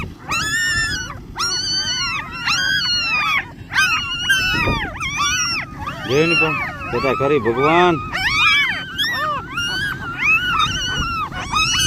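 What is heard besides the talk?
dog searching for her puppies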